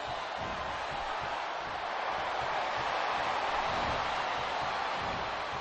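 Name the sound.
wrestling arena crowd in a WWE video game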